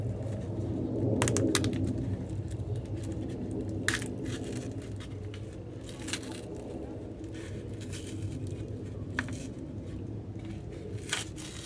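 A plastic pack of nematodes for treating fungus gnats is handled and torn at, giving several brief crinkling, ripping bursts over a low steady background hum, close but fairly quiet.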